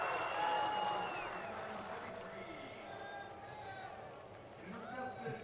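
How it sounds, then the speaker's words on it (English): Canadian supporters and athletes who have already skied cheer and shout loudly for a sit-skier coming down the women's slalom course at the Sochi Paralympics, a dense crowd roar with whistles that swells again near the end. "The Canadian supporters with some of the athletes that have already skied cheering her down"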